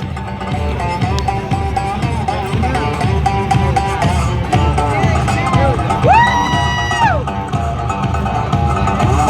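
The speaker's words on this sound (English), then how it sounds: "How about this crowd at Talladega? That's a great crowd." Large crowd of NASCAR fans at Talladega Superspeedway during the fall Cup race, a dense, continuous roar of hubbub and babble with scattered whoops and cheers, plus a brief rising whistle-like tone partway through.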